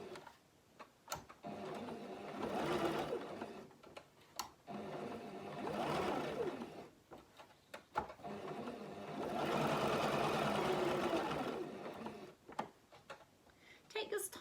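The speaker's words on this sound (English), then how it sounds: "So I'm just going to go to my sewing machine and start that now for you." A home sewing machine stitches fabric flowers in several runs of steady mechanical whirring, separated by pauses with clicks and handling knocks, up close in a quiet room.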